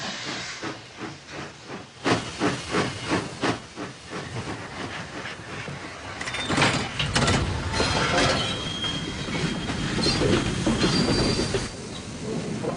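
A wartime steam train rumbles past with rhythmic wheel clatter, then hissing steam and squealing wheels build into a loud, sustained roar.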